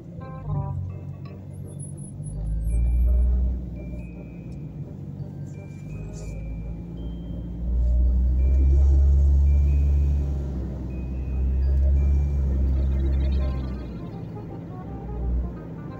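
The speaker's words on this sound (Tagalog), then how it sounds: "Traffic na naman dito." Road traffic near a bridge on a sunny day: a steady low rumble of passing cars and trucks, swelling louder as heavier vehicles go by, with no talk.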